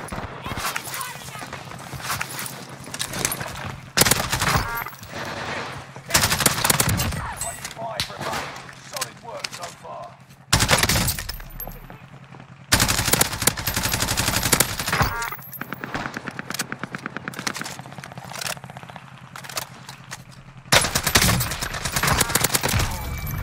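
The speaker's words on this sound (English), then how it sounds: "No, why are you shooting me, son?" Bursts of automatic gunfire ring out from a Call of Duty Warzone match on Rebirth Island, loud and repeated in sharp clusters with short gaps, while a player talks over much of it.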